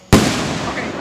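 A July 4th fireworks finale shell explodes in one sudden loud close boom followed by a rumbling crackle that fades over about a second.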